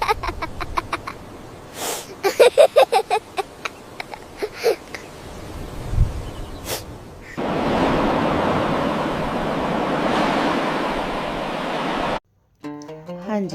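Ocean waves wash onto a sea shore as a broad, steady surge of noisy water that sets in partway through and holds loud for several seconds, after earlier scattered clatter and short sounds.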